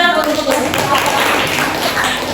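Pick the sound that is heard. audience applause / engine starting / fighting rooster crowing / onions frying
audience applause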